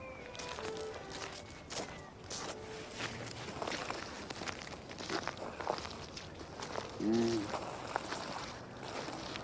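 Footsteps crunch and thud across a suburban house roof at a steady walking pace, close by, with faint birds chirping in the background.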